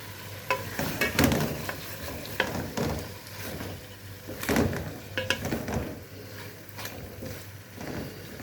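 Hilsa fish goes into a pan of frying masala of green chilli, turmeric and salt, giving a continuous sizzle with bursts of stirring and scraping, close and moderately loud.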